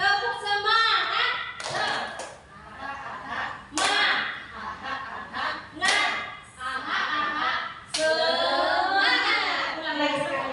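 A group at a teacher workshop performs a rhythmic clapping chant, sharp clap bursts alternating with chanted voices in a call-and-response pattern.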